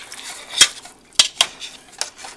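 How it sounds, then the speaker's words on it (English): A spoon stirs broccoli cheddar soup in a pot on high heat, scraping the bottom: a few sharp metallic clinks and scrapes over a soft simmer, close and alone. "I want to stir the"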